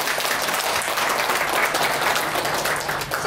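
A crowd at an association's inauguration ceremony claps warmly, dense continuous applause that stays loud and even from start to finish.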